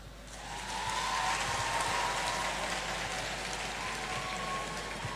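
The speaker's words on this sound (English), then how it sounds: "you are clapping" Steady applause from an audience at a speech, a dense continuous patter of clapping hands that swells in the first second and holds evenly, with no talk over it.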